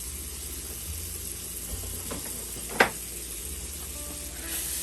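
A stick of salted butter melts in a pan with a soft, steady sizzle and faint crackle, plus a couple of brief clinks partway through, close and quiet with no talking.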